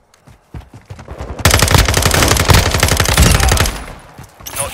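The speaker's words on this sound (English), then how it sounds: "Receiving fire!" Call of Duty: Modern Warfare II gunfire: scattered single shots break into a dense, loud burst of rapid automatic fire lasting about three seconds, then trail off into a few sparser cracks.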